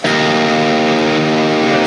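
Electric guitar played through an Airis Effects Tight Series distortion pedal, a loud, sustained heavily distorted chord ringing steadily for about two seconds with no talk.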